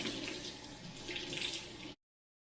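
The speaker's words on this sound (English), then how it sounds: "Once all the rings are off, you can wash these off with warm soapy water." Warm water runs steadily from a kitchen sink tap while canning jars are washed in soapy water, a close, even splashing hiss that stops abruptly.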